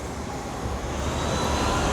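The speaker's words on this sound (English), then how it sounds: "Here comes a few Gatineau buses going by." Gatineau buses passing in downtown rush-hour traffic, a broad steady roar of engines and road noise that swells slightly toward the end, moderately distant and without voices.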